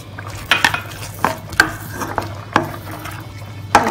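Onion, capsicum, baby corn and yellow bell pepper being cooked in a pan, heard as sharp spatula scrapes and clinks every second or so over a faint background hiss.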